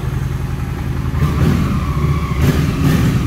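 A Honda Shadow 750 custom motorcycle engine idles loudly nearby, warmed up, then revs up in a couple of brief throttle blips.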